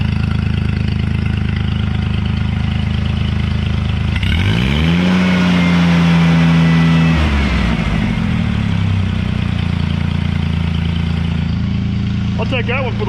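A lawn mower engine, freshly repaired after exhaust work, idles steadily and loud throughout with a brief rev in the middle, while someone talks over it.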